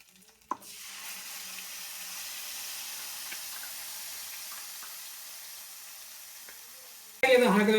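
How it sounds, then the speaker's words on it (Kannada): A paste of tomato, green chili, onion and coriander hits hot oil with a sharp burst, then sizzles steadily and loud for several seconds before a brief clatter of stirring near the end. "ಆ ಪೇಸ್ಟನ್ನ ಈಗ ಎಣ್ಣೆ ಒಳಗೆ ಹಾಕುವ ಸಮಯ ಬನ್ನಿ."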